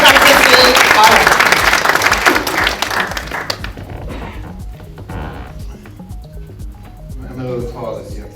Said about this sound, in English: You can clap this in.